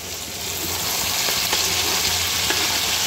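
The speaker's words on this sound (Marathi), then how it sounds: "आता याला छान परतून घ्यायचं 2-3 मिनटं, छान सॉफ्ट होतपर्यंत" Green peas and chopped tomatoes sautéing in a pan for rawa upma, a steady loud sizzle and crackle that builds slightly and then holds evenly with no talking.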